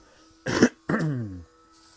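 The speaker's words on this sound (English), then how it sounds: "let me clear my throat" Two close, distinct throat clears, a short harsh rasp followed by a longer voiced grumble, with quiet room tone around them.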